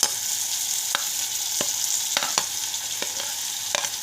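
Tomatoes tossed into browned onions in a pan for a Maharashtrian soybean curry, giving a steady bright sizzle broken by about eight sharp spoon-scrape stirs at uneven intervals, close and clear with no talking.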